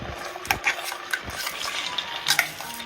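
Ground fenugreek being stirred into hot ghee in a pan over low flame for a Karkidaka lehyam, heard as soft scraping and rubbing strokes with a few sharper utensil clicks against the pan, close and fairly quiet.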